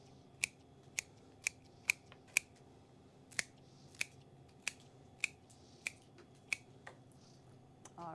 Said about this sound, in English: Let's go ahead and trim them and make them even.